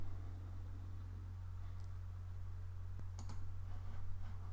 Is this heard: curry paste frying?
no